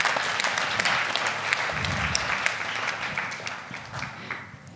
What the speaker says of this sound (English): So can we just give them a round of applause for jumping on board?